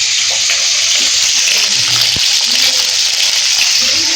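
Tilapia fish frying in hot oil in a Bengali home kitchen, giving a steady, loud, hissing sizzle with a few soft clicks and knocks throughout, and no talking.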